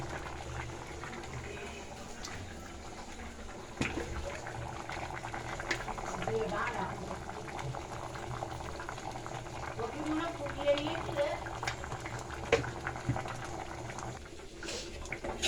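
Khichuri bubbling in a pot on the stove, a continuous soft boiling burble with faint background noise and occasional clinks, steady throughout with a voice heard talking at points.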